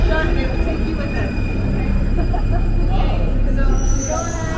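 A Paris metro train rumbles loudly close by, a heavy continuous roar with a faint high wheel squeal, and voices are partly buried under the noise.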